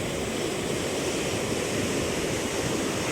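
Loud, constant rush of floodwater flowing about a foot deep over a river bridge on the Shahi river at Dhokadva, Gujarat, after monsoon rain, a dense unbroken roar close by, with no voices.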